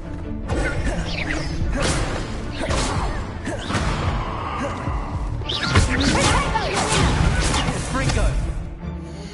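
An Incendio fire spell is cast in a video game, with loud, dense whooshing bursts and crashing impacts that run without a break, plus a brief voice over the effects.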